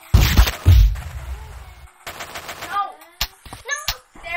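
Shotgun fire from the handheld game Grand Theft Auto Advance: loud, heavy blasts near the start, then further sharp game gunshots and effects, with a voice talking over them.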